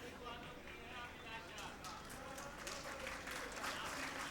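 Faint crowd applause at a Hindi motivational talk, a continuous distant patter of many hands clapping that grows slightly denser toward the end, under low background noise.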